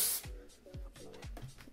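Hairspray hisses onto hair in a few short bursts, the first one loud and the rest quieter, close up with no talking.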